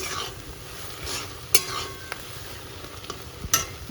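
Chopped bottle gourd stirred and frying in a pan, a steady soft sizzle with scraping stirs and a couple of sharp metallic clinks of the spatula against the pan, close by.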